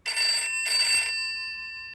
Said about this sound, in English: just when the phone rang